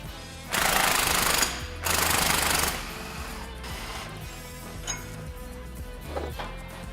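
A leaf spring bolt is removed from a truck, heard as two loud, close mechanical rattling bursts of about a second each, followed by quieter clinks and shop noise.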